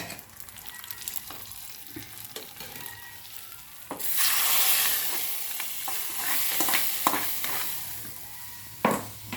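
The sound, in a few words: tempering with curry leaves poured into fish curry, sizzling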